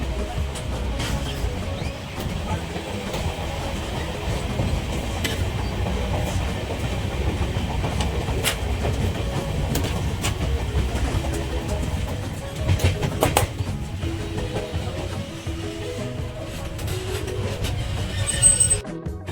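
LHB passenger train on the Howrah to Purulia line, with a steady low rumble of wheels on rails and faint clicks and squeals running throughout, heard from inside the coach with no talk.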